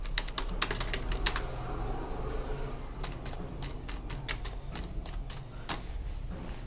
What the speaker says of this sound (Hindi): हमने टाइप कर लिया